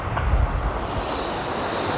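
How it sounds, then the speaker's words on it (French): Strong wind on the Atlantic coast of Spain, a steady, broad rushing roar with low buffeting gusts against the microphone, continuous throughout. "il y a beaucoup de vent"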